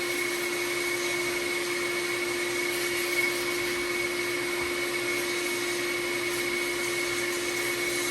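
A DIY soda blaster runs inside a blasting cabinet, giving a loud, steady hiss and roar with a constant whine, unbroken and without speech.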